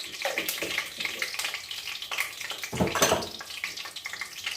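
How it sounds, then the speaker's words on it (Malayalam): Mustard seeds spluttering in hot oil during cooking of a mutton liver roast; dense close crackling and popping hiss continues throughout, with a sharper burst of spatter near the middle. "കടുക് പൊട്ടുന്നുണ്ട് കറക്റ്റ് സമയത്തിന് ഞാൻ ഇട്ട് കൊടുത്തിട്ടുണ്ട്"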